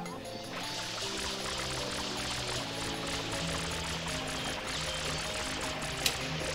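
Steady rushing spray of water from the water pack washing goo off in Super Mario Sunshine, continuous and loud throughout with game music underneath and a brief sharp click near the end.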